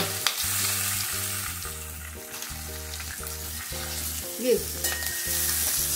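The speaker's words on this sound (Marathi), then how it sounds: "ह्यामध्ये मिरची घालते। थोडीशी हिंग" Green chillies frying with a pinch of asafoetida in hot oil on a low gas flame, a steady close sizzle broken by stirring scrapes and a low hum, with no one talking.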